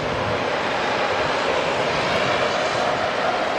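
Aircraft engines roar steadily on the Auckland Airport runway as a plane takes the starter extension of runway 05, a loud, broad, unbroken rumble with no voices over it.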